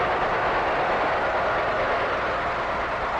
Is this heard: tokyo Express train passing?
yes